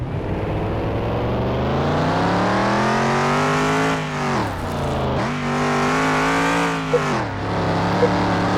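A barn-find Ford Bronco on its first test drive in about 20 years revs and accelerates loudly from close by. The engine note climbs and drops through several pulls, with no talking.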